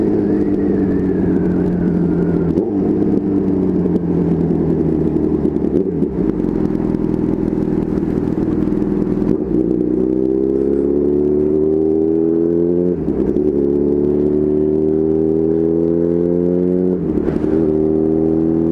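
A Suzuki B-King motorcycle in orange metallic accelerates hard, its engine note climbing steadily through long loud rising pulls with brief dips between them, close and continuous with no talking.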